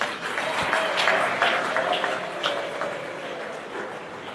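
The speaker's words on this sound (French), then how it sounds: "je vous prie de les acclamer vivement" An audience at a speech-giving event claps steadily and warmly for the whole stretch, a dense crowd of hands heard close.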